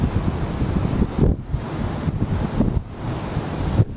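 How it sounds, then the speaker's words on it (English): Ocean surf washing onto the beach at Bandon, Oregon, with a lighthouse nearby, heard as a steady broadband roar with a few swelling wave surges and strong wind buffeting the microphone, no voices. "This is the beach."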